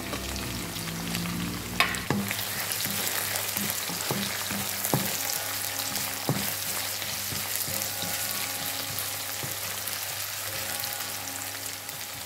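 Onion, green chili and garlic crackle and hiss in a hot pan for a spicy Jaffna potato pirattal, a steady loud sizzle with a sharp splash at the start and scattered spatula knocks, no voices.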